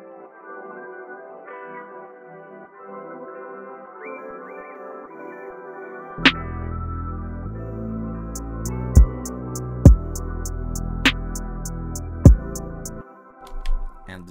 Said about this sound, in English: You may have noticed that I've also separated my pad channels.